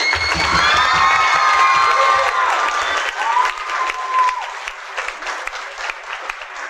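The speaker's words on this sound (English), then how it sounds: "a big round of applause at this time, to the Debary Civic Association" Audience at a children's theatre production of Fiddler on the Roof applauding and cheering, with loud clapping, whoops and high children's shouts at first, then the cheers fade and scattered clapping trails on.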